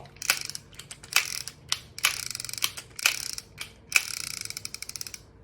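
A second-hand Powerful PH 400 fishing reel turns, its gear ratchet clicking in quick, crisp bursts of rapid ticks, close and alone, with short pauses between turns.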